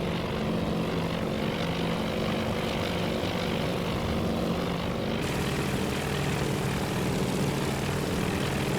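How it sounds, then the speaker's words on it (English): Propeller scout planes taking off in the naval strategy game Task Force Admiral, a steady droning engine roar with a rumbling low end that holds at a constant loudness throughout, with no talking. "First of our scout planes heading off towards the rising sun."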